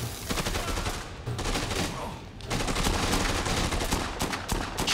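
Dense, continuous gunfire in the Dead Rising 2 video game, a pistol emptying amid rapid overlapping shots that fill the whole stretch loudly with no pause.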